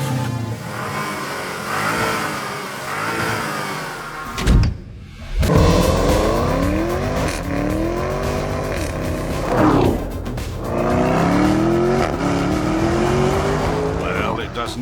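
A Lamborghini Urus engine revs and accelerates hard, rising in pitch through gear changes with a brief tire squeal, loud and close, while someone talks over it.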